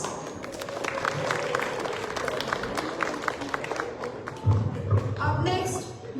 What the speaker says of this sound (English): Let's give Tanav a big round of applause.